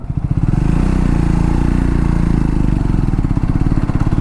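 A Triumph Scrambler 400X motorcycle pulls away from a standstill in fourth gear, its engine a loud, steady, close low thrum with a rapid pulsing beat that holds throughout.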